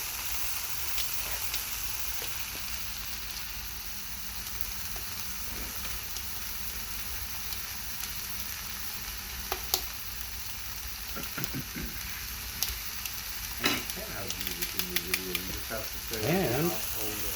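Venison and potatoes fry in a seasoned pan, a steady close sizzle and crackle running throughout, with occasional scrapes and stirring clatter as the pan is moved and spun near the end.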